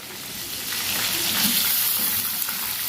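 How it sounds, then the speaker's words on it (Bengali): Meat frying hard in hot oil in a pan for biryani, a dense, steady sizzle that grows a little louder and crackles continuously with no talk. "এই জন্য মাংসগুলো একটু ভালো করে ভাজতে হবে"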